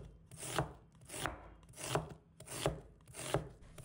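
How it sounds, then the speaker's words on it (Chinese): Half an onion is cut into thin strips with a knife, five evenly spaced chopping strokes landing on a board at a steady, unhurried rhythm, quiet and close. "我们再准备半个洋葱，把它切成细丝"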